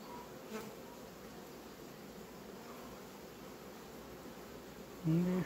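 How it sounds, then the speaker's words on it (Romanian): Honey bees in an opened hive drone steadily and close at hand throughout, a dense, even hum, with a slightly louder swell of buzzing near the end. "Multă albină tânără."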